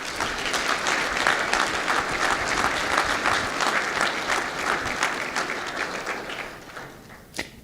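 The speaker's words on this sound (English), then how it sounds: "please join me in giving a wonderful round of applause to our local municipal governments" A business audience at an annual economic development meeting claps in a dense, sustained round of applause that fills the room evenly, then thins and fades near the end, with no voices rising above it.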